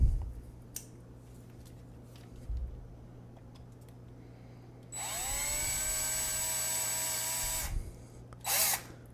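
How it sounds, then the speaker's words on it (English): A drill bites into an iPhone 7 in a few short, separate bursts, the longest a sustained high whine lasting several seconds, closely miked over a low steady hum. "Okay, let's keep drilling."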